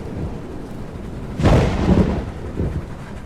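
A loud crack of thunder from lightning in a Roblox game bursts out and rumbles over a steady background of rain, fading into a lower rolling growl.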